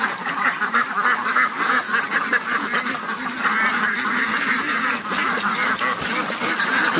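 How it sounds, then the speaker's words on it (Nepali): Farm ducks quack and honk in a busy, overlapping chorus, close by and steady throughout with no voices. "हाम्रो हाँसहरू"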